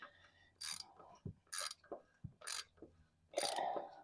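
An oil filter is being screwed onto a 2015 Toyota Camry, giving faint, rhythmic bursts of ratcheting and scraping at roughly one-second intervals, close by, with no talk.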